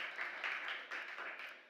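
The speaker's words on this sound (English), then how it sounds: "Big applause, big applause." Audience applause at a COP28 panel in the Nordic Pavilion, a short stretch of steady, moderately distant clapping from a crowd with no talking over it.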